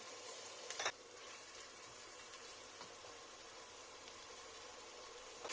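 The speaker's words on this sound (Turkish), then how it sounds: "Devamlı karıştırarak kavuruyorum" Tomato paste sizzles with chopped onions and two charleston peppers in a pan while being stirred constantly, a faint, steady frying hiss with a few soft clinks.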